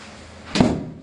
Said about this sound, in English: wind caught that door.